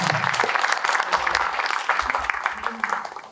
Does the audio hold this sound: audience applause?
yes